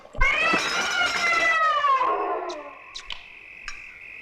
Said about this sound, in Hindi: तुमसे कितनी बार कहा कि इस बिल्ली को खाने की टेबल से दूर रखा करो